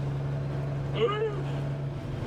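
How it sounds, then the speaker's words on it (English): A Peterbilt 379 truck with a 500-horsepower Cummins straight-six engine on a road test around UK roads: a steady, low, throaty drone runs throughout, with a brief voice partway through. "But the engine sounds so sweet."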